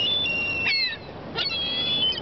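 Several seagulls give thin, high calls while being fed outdoors, a few cries near and clear over a steady background hiss, with no talking.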